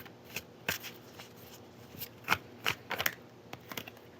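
Tarot cards being shuffled close up in a series of soft, irregular riffling and slapping bursts, quiet with light background noise.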